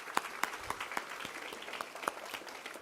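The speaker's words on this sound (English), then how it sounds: "So let's give them a big round of applause, too." Audience applause at a scholarship award ceremony, a room of people clapping steadily with a few sharper individual claps standing out, moderately loud throughout.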